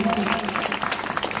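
Audience at a school guest event in Narla, Kalahandi clapping for the teachers, a dense sustained burst of applause filling the short moment.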